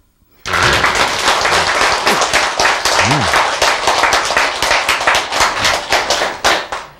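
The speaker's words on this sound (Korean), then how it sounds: "박수!" An audience at a lecture bursts into loud, sustained clapping from about half a second in, dense and steady, then thinning into scattered claps toward the end.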